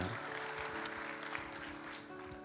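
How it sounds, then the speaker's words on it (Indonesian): Applause from a church congregation during a worship service, a steady wash of many hands clapping over organ or keyboard tones that sustain underneath throughout. "Kasih tepuk tangan yang meriah buat Tuhan Yesus."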